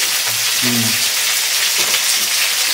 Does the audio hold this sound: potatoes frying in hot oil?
yes